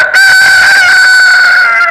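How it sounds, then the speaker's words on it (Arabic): A rooster crows loudly and close, one long drawn-out cock-a-doodle-doo call held for nearly two seconds, with no talk in between. "عامل لي ديك على شوية فراخ"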